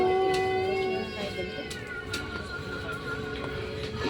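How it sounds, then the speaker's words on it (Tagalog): A cat meows with a drawn-out tonal call at the start, followed by fainter mewing sounds in a domestic setting, heard near and moderately loud. "Pusa."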